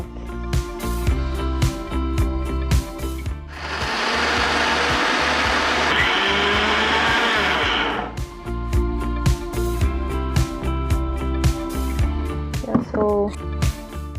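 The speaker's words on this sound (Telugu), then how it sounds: "ఇప్పుడు దాన్ని మనం మిక్సీ పట్టాలి పౌడర్" An electric mixer grinder whirs for about four and a half seconds, steady and loud, as it grinds roasted peanuts with salt into a fine powder. Kitchen clatter and conversation come before and after.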